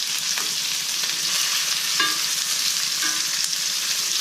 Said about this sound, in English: want to make sure that when your steak hits the pan, it sizzles